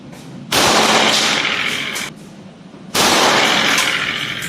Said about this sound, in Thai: จะลองด้วยลูกหัวตัดนะครับ ก็ ใส่ไปหกแต่จะยิงแค่นัดสองนัดนะครับ ยิงด้วยมือขวาก่อนนะครับ